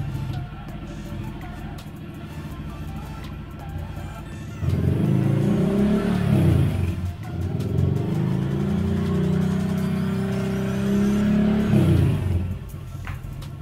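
A Honda Click scooter fitted with an Akrapovic exhaust is held at half throttle, its engine rising from idle into a loud, steady, buzzing drone with a brief dip midway, then falling back to idle, close by.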